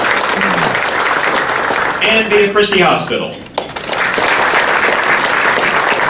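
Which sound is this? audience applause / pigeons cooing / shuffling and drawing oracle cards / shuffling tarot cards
audience applause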